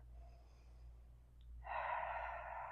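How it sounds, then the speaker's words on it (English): A person draws a deep abdominal breath, faint at first and then rising to a steady, airy, close inhale or exhale over low background hum. "Taking a nice good breath,"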